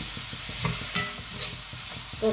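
Sliced onions with salt sauté in a pan, with a soft steady sizzle broken by short scraping stirs of a spoon, close and fairly quiet.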